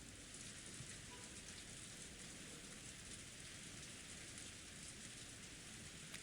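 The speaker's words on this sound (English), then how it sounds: "Kinzo noticed the sound of the raindrops beating on the window." Rain beating on a window, a visual novel sound effect from Umineko, a dense, even, hissing downpour that holds steady and faint throughout with no talk.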